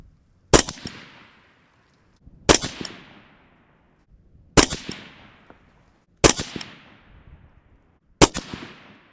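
An AR rifle fired five times at the 100-yard line on an outdoor range, each sharp, loud crack followed by a short decaying echo, spaced evenly about two seconds apart with nothing else heard.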